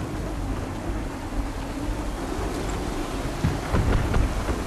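A heavy wind gust at sea aboard a sailing ship in the video game Assassin's Creed 3, a broad continuous roar of wind and water with low rumbling surges, loud throughout, with no voices.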